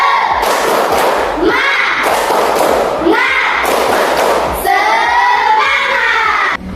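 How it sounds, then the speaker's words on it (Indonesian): A classroom of pupils in an Indonesian Islamic studies lesson performs a spirit clapping chant, loud rhythmic claps in quick bursts with voices shouting along, filling the room for several seconds. "tepuk semangat"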